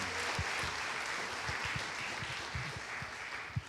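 A church congregation applauds during a sermon, a broad, moderately loud wash of many clapping hands continuing evenly, with a few low thumps scattered underneath.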